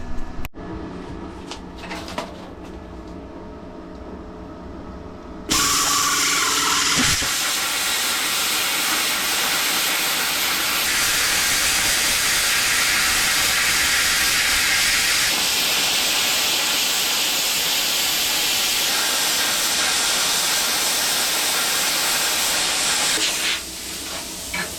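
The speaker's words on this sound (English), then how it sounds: "So I'm going to cut that out with the plasma." A plasma cutter slices freehand through metal for a homemade blacksmith forge, a loud, steady roaring hiss that runs continuously for about twenty seconds after a short stretch of clattering setup noise.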